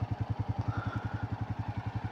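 A Royal Enfield Classic 350 motorcycle rides along with its engine producing a steady, rapid thumping beat, close and even throughout, with no voices over it.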